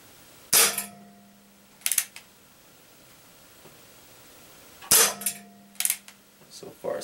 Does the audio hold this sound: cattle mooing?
no